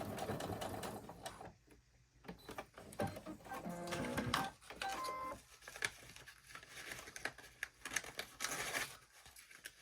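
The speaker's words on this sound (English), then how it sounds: "we're gonna tack it on right now too while we're at the sewing machine" A sewing machine stitches a fabric chair cover in quick mechanical runs, starting and stopping, with fabric rustling and handling noises between bursts, close and fairly quiet.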